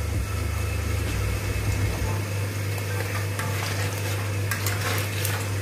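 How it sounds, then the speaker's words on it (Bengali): Nigella (black cumin) seeds sizzle steadily in hot oil for a Bengali singi catfish curry, with occasional clinks of a spoon against the pan over a constant low stove hum. "তেলটা গরম হয়ে গেছে, এখন আমি এর মধ্যে 1 চা চামচ কালো জিরে দিয়ে দিলাম।"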